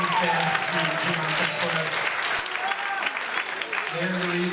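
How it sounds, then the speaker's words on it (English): An audience at a school writers-week event breaks into steady applause for the students and staff, a dense wash of clapping with a voice speaking over it throughout. "please a round of applause for all the students and staff"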